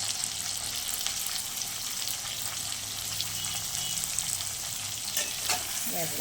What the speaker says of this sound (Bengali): দেখো এবার আমি আলু আর বেগুনটা তেলের মধ্যে দিয়ে দিয়েছি